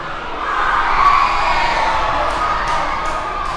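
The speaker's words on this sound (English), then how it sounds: "You can hear the crowd and everyone out there." A crowd of children at a primary school boys' football match cheers and shouts loudly, a sustained roar of young voices from a distance.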